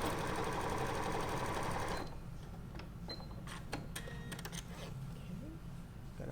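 Sewing machine stitching a fabric seam, a fast rhythmic whirring run that stops after two seconds, followed by light clicks and handling noises with quiet sounds in the background.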